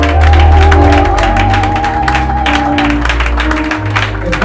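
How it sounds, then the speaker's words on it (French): A church congregation at an Easter service claps rhythmically in quick, even beats over sustained music tones, loud and close, steady throughout. "Est-ce qu'on peut accompagner de l'acclamation?"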